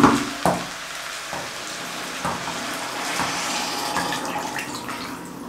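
Warm water poured into a hot pot of čorbanac stew that has begun sticking to the bottom, opening with a few clatters, then a steady close hiss and rushing pour throughout.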